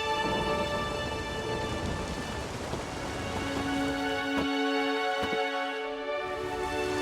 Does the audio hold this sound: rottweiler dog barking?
no